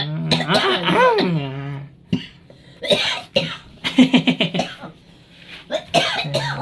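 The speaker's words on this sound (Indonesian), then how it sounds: "Lagi batuk guys" A person coughs in a series of harsh bursts, with a pause in between and a quick run of short coughs near the end.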